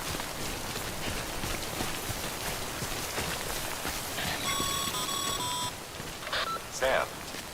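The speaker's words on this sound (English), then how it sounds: "Don't stay out in the rain any longer than you have to." Steady rain falling in the video game Death Stranding, a dense even hiss throughout, with electronic beeps and tones cutting in near the end.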